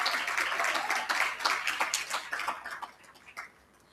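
Audience applause at an African elections journal launch event: a few seconds of scattered hand clapping that thins out and fades to quiet, with no talk over it.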